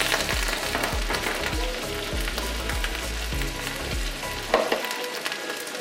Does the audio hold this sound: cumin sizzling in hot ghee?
yes